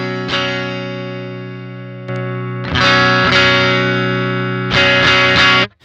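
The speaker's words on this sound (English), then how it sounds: "If we compare to the clean sound," A clean electric guitar tone, set against a drive pedal, sounds as a few strummed chords that ring and sustain, with a quiet single hit between them and a final chord cut off abruptly.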